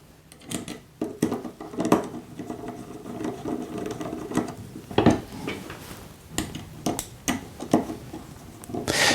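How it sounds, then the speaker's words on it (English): Screws are driven back into a GRS Slide and Lock plate. Short, uneven bursts of mechanical whirring and clicking come in quick succession, with brief pauses between them. "Put the screws back in."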